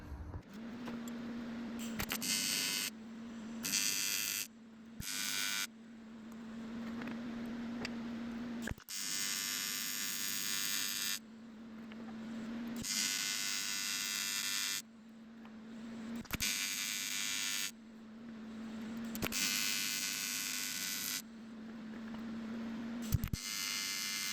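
A swirl pot for a turbo K24 Civic is welded in repeated bursts, each a steady electric buzz and crackle of several seconds separated by short pauses, close and fairly loud with no talk.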